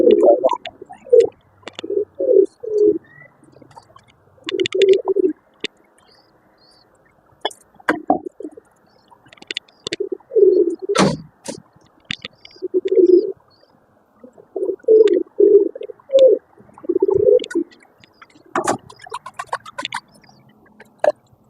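Pigeons on a rooftop coo in repeated low, throaty bursts while eating grain, with scattered sharp scratches and pecking sounds between the calls.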